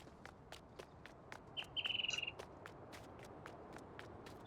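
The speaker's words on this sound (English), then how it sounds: "Nice to hear the bird calls." Bird calls in the Farming Simulator 19 video game, with a brief trilling chirp burst standing out over a steady ambient wash and scattered faint ticking sounds in a quiet outdoor scene.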